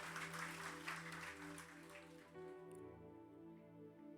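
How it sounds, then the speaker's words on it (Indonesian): A church congregation claps in worship at a Sunday service, broadband clapping loud at first and fading after about two seconds as sustained tonal music continues underneath. "Tepuk tangan bagi Tuhan."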